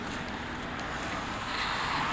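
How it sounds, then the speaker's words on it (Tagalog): Road traffic on a street in Pak Shek Wo, Hong Kong: a steady, fairly loud wash of passing vehicles with wind, continuous and without speech. "Naririnig nyo yung mga sasakyan at kuliglig."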